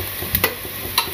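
Sliced onions browning in hot oil in a pan, a spoon scraping and stirring in a few quick short strokes over a soft steady sizzle, close up and alone.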